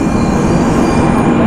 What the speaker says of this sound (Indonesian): Kereta kita datang, inilah Shinkansen.